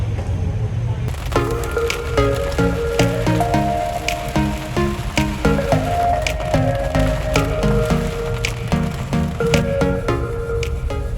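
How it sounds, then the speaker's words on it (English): Steady rain patters on surfaces throughout in Gatlinburg, Tennessee, in the Smoky Mountains, with music-like tonal notes and faint voices mixed over the continuous wet hiss. "So it's raining"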